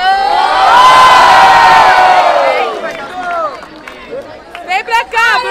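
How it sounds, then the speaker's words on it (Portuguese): Loud crowd noise at a rap battle in Barueri, São Paulo: a surge of cheering, whooping and clapping that peaks early and then fades into scattered shouts and voices. "Uma salva de palmas e muito barulho pro Nogue do Costa Ground aí."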